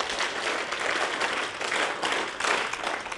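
An audience at a university event claps together in a dense, continuous burst, loud and close throughout with no voices on top.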